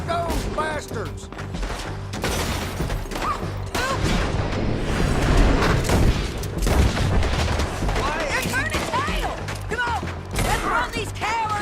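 A video-game shootout: a dense, continuous clatter of gunfire and impacts, with shouting voices layered on top throughout.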